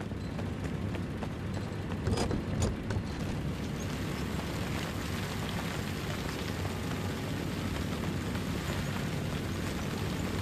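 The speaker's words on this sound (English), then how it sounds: "Grenade!" A grenade blast in the World War II VR shooter Medal of Honor: Above and Beyond, a loud burst of explosive noise amid dense, continuous rumbling battle din with crackling debris.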